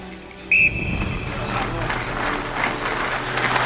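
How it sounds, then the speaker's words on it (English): A coach's whistle blows once in a short, sharp shrill blast at a hockey practice, then an arena ambience with crowd-like noise continues after it. "Why doesn't he blow the whistle himself?"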